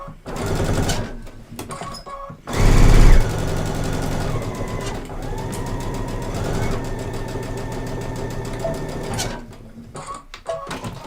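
A sewing machine stitches the chin seam of a fabric face mask, a steady close mechanical whir that runs nearly the whole time, briefly louder early on, with short pauses at the start and end.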